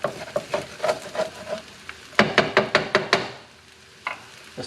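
Fried rice stirred in a frying pan: a run of sharp scraping, knocking strokes from a utensil against the pan, clustered in a quick burst midway, with a soft sizzle beneath and no talking.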